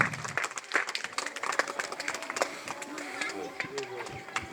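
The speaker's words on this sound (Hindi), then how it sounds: "जोरदार तालियां, बच्चों की हौसला अफजाई कर रहे हैं हम।" Audience applause for children at a school academy's first annual function, brisk clapping filling the whole stretch with talk and crowd noise mixed in.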